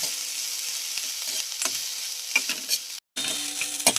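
Chillies for a sweet-sour-spicy mirchyamrut relish sizzle steadily in a pan while a spoon stirs them, with scraping strokes over the continuous frying hiss. There is a brief pause.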